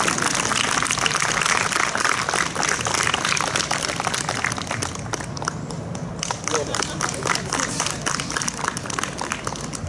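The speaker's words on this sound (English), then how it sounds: "And let's give them another round of applause." A crowd at an 8th grade graduation claps continuously throughout, a steady, full round of applause with scattered individual claps standing out.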